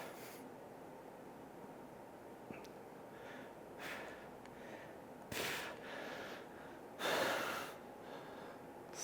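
Heavy breathing during a calisthenics flex session, with sharp forceful exhales and snorting breaths in a few short bursts over a faint quiet background, the strongest near the end.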